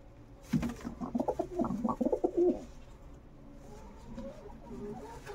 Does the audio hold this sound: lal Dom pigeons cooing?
yes